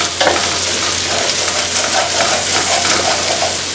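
Spices being stirred into hot oil for Malabar fish biryani over a low flame: a continuous loud sizzle with scraping stir strokes close by, and no talking.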